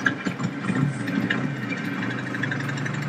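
A motorbike engine runs steadily inside a museum, its wheel turning round, giving a continuous mid-pitched mechanical hum with faint clatter throughout, fairly close and without speech.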